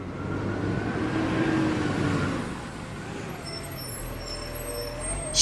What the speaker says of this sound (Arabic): شاحنة.